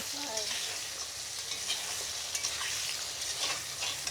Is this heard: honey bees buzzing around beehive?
no